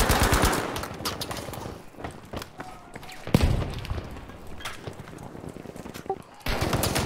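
Machine gun fire in a shooter game, rapid staccato bursts that are loud at the start and end, with scattered single shots and thuds in between.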